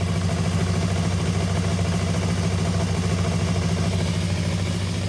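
A motorcycle engine idles at a steady low rumble around 1500-1600 rpm, with an even, continuous throb close by and no voices.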